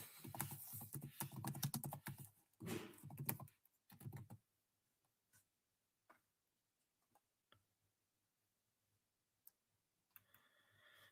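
Bursts of fast, close typing on a computer keyboard clatter for about four seconds, then give way to a few scattered isolated key taps in a quiet room.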